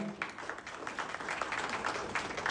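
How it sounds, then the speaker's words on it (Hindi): An audience at a dealers' meet applauds a founding director's introduction, a faint, somewhat distant patter of many hands clapping for a couple of seconds. "एक बार जोरदार ताली हो जाए"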